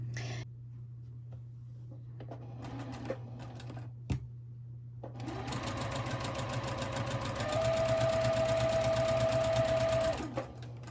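A sewing machine stitching quilt block rows together for a nine-patch, starting with a few handling clicks, then running steadily with a rapid, even whirring rhythm that holds for several seconds before stopping.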